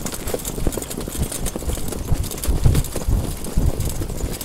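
Hooves of a harness racing horse pacing on a track give a close, rapid rhythmic clip-clop, steady throughout and mixed with rumbling motion and wind noise.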